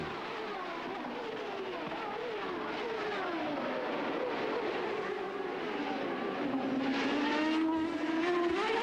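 CART race cars in 1999 at the Australian round, pulling away after a green flag restart: a continuous high engine whine rising in pitch, fairly faint and distant, with no talk.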